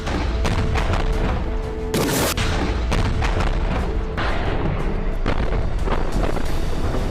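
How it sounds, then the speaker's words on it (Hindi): Rocket fired by a Hamas fighter at an Israeli tank in a war setting, heavy booming blasts over continuous rumbling battlefield noise, with a sharp loud burst near two seconds and further thuds. "एक और टैंक पर हमास का लड़ाका रॉकेट फायर कर देता है।"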